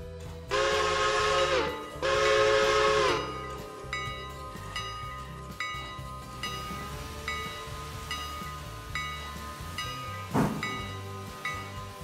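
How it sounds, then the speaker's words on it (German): Locomotive in the Railroader train simulator game pulling away, with two long, loud horn blasts followed by a steady mechanical rumble and rail clatter, closing with a short squeal. "Und lassen die Lok mal fahren."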